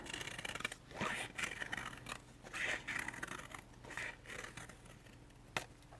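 Scissors snip out a circle from paper or craft material for a Valentine art project, a run of close, soft cutting and scraping strokes with brief pauses and no talk.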